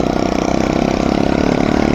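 A motorbike engine drones close by with a steady, buzzing mid-pitched rumble that holds level through the short moment.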